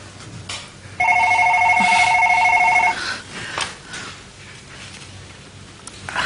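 An office telephone rings in one steady electronic burst lasting about two seconds, loud and close, followed by light rustling and handling sounds in the room.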